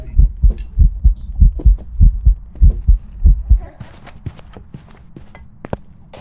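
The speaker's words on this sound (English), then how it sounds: "Like the heartbeat will be deafening." Loud, deep thumping heartbeat from a ghost in the video game Phasmophobia, a rapid steady double-beat pulse that stops partway through, followed by faint footsteps and clicks.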